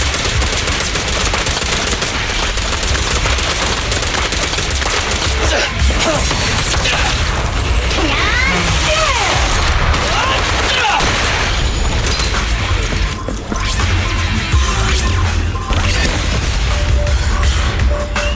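Loud, relentless gunfire in a Zenless Zone Zero battle, rapid automatic shots and impacts blending into a constant roar with booms, with a voice briefly heard over the fighting.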